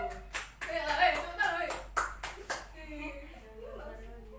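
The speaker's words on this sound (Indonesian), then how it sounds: "Tepuk tangan untuk Gio." A classroom claps for a student during a micro-teaching lesson: several sharp, separate rounds of hand claps at close range, overlapped by voices talking, then fading into speech.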